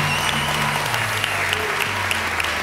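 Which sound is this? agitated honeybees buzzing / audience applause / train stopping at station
audience applause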